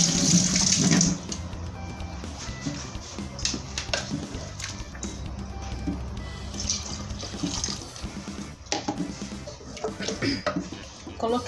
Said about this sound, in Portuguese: Coloquei mais um pouquinho de água.